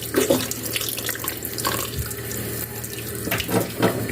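Kitchen tap water runs steadily into a sink while a whole chicken is rinsed and cleaned, a continuous splashing flow with small bumps as the stream hits the bird and basin.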